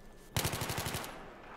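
A single loud burst of automatic gunfire from Battlefield 3, about seven or eight quick evenly spaced shots right after a near-silent pause, fading into a brief ringing tail.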